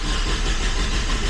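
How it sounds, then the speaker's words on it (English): A Nissan S13's engine runs on a dyno with a steady, loud mid-pitched drone throughout, sounding like it has just caught after cranking and settled toward idle. "now it's running again, and we're just gonna let it run and idle here"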